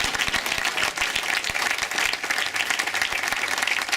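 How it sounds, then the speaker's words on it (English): An audience at a house opening ceremony claps steadily and loudly throughout, a dense, even wash of applause with no pauses. "At this, now you can clap for everybody."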